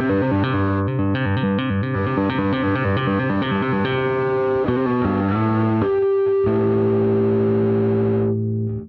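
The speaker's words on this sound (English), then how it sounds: "this preamp has got a lot of drive and a lot of distortion" A distorted electric bass riff through a Line 6 Helix LT preamp plays alone, loud and gritty, with a steady repeating pattern that shifts midway to longer sustained notes before cutting off.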